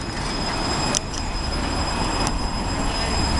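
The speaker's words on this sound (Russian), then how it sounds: "Как раз мы сейчас снимем трамвайчик." A tram rolls along a city street in Ulyanovsk, Russia, giving a steady, close rumble of wheels on rails with thin high squealing tones running throughout and no talking.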